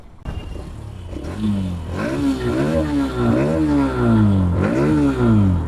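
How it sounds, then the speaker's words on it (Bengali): A nearly new Hero Extreme motorcycle, about two months old, revs its engine repeatedly, with rising and falling pitch sweeps in close succession, loud and close, no talking. "দেখছেন সাউন্ড দিচ্ছেন গাড়ির"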